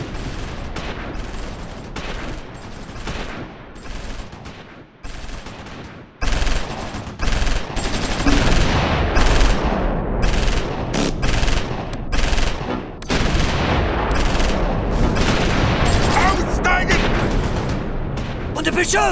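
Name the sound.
gunfire in Close Combat 4 video game battle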